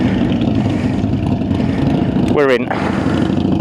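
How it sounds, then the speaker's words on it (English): Motorcycles rumble as a group sets off together on a charity ride, a steady engine drone under close talking, with one bike revving sharply and briefly near the end. "So all the bikes are rolling."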